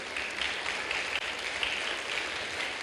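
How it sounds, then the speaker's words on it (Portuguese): A church congregation applauds steadily and fairly loudly, a dense wash of clapping that holds without letup for a few seconds. "Pode aplaudir"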